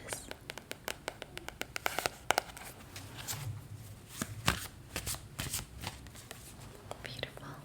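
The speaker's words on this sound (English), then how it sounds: "let me shuffle the Universal Tarot to see if we have any additional messages" Universal Tarot cards are shuffled close up in a quiet room, a run of crisp riffling snaps and soft papery flutters, with faint whispering underneath.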